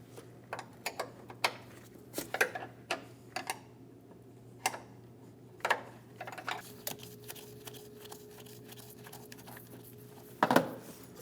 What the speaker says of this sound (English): Using a 13mm, remove the 3 nuts for the strut.